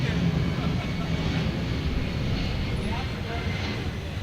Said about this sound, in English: Hometown flyover for Mikey Calvillo.